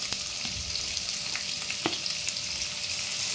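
Onion sizzles steadily in hot oil with ginger-garlic paste, a close, continuous frying hiss with faint stirring clicks and no talk.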